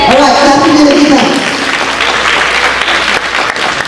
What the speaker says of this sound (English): All right, clap your hands again.